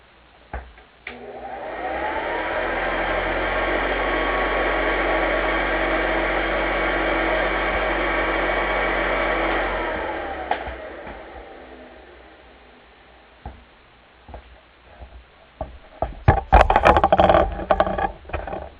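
A vintage GE Roll-Easy vacuum cleaner motor starts, runs with a steady loud whine and hum for about eight seconds, then winds down. Clicks and handling knocks follow.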